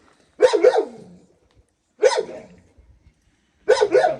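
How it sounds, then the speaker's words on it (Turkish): A dog barks three times in separate, loud, close bursts with short silences between them. "Yalnız bu köpek kızandı herhalde."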